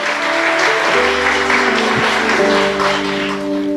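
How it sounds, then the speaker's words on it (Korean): A church congregation claps together in thanks during a festival worship service, a sustained round of clapping with sustained musical tones, likely organ or keyboard, held underneath. "다시 한번 우리 감사하다고 박수 치겠습니다"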